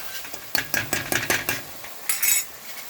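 Dalia (cracked wheat) being fried and stirred in a pot, heard as a run of sharp metallic scrapes and clinks from a spoon against the pot, fairly close, with a short pause before a final burst of scraping.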